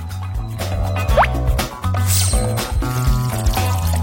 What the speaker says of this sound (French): Et maintenant, je vais tout mettre ici. Voilà le glaçage. De l'eau.